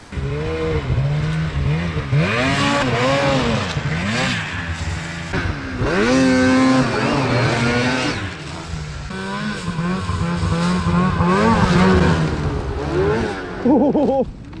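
Mountain snowmobile, a Polaris Pro RMK 800 or Arctic Cat M8, revving hard while side hilling in snow; loud rising and falling two-stroke engine pitch sweeps repeat close by, with a brief higher whine near the end.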